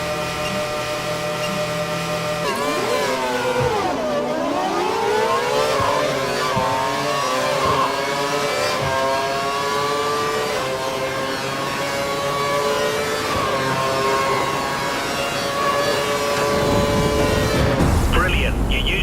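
Formula 1 car engine in the F1 2012 racing game revving hard and accelerating, its pitch dipping on a gear change then climbing steadily, loud and continuous with the whine of gears on top.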